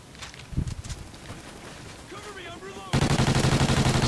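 Rapid gunfire from a Call of Duty Ghosts multiplayer match rattles in dense bursts, with a sustained loud automatic volley at the end, while players talk over the game.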